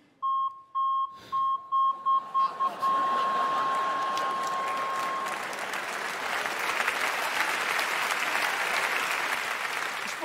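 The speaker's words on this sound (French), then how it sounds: "c'est le même bip que le bip de recul sur ma voiture" A series of evenly spaced electronic beeps, then one long sustained tone fading into loud crowd applause that continues to the end.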